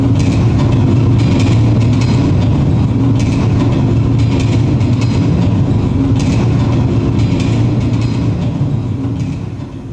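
Train passing nearby: a loud, sustained low rumble with rhythmic clatter of wheels over rail joints, steady for most of the stretch before easing off at the end.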